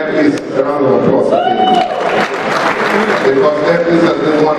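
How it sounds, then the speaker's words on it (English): A crowd applauds Air Peace at a 25th-anniversary aviation ceremony, sustained clapping running throughout beneath a voice speaking over it and some tonal sound. "Allow us to give Air Peace a round of applause"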